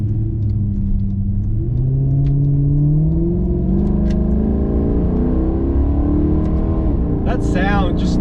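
Naturally aspirated Maserati GranTurismo engine droning steadily as the car drives, rising and falling in pitch with a brief higher whine near the end, loud and close throughout.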